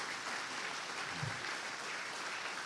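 Applause from the audience at an Alcoholics Anonymous meeting, a steady, even wash of clapping from a crowded room, faint and distant.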